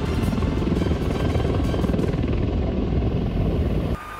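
A military helicopter flies close overhead with a loud, steady rotor and engine roar that fills the whole stretch and drops slightly near the end.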